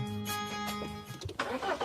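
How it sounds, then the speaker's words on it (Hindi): A car that has just been repaired starts up, its engine cranking and catching with a rough, rising mid-range rumble after a voice at the start. "भैया स्टार्ट कीजिए, गाड़ी बन गई है।"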